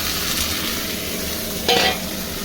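Chopped tomato dropped onto onions fried deep red in a pan for a prawn and taro stolon dish, a dense close sizzle with a brief louder burst of spatter and a light utensil clink, no voices.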